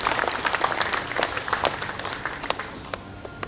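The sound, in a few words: audience applause for party secretary-general and treasurer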